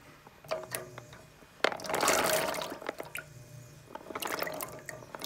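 Dry chickpeas tipped into a pot of about two liters of cold water, giving a run of watery splashing and pouring that rises for a second or two, with small drips and rattles before and after, close up.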